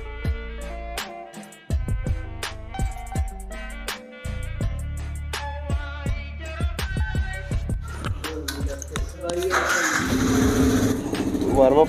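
A Yamaha motorcycle fitted with an Akrapovic aftermarket exhaust fires up near the end. A rough, rising engine burble breaks in after several seconds of melodic music that plays over the whole clip.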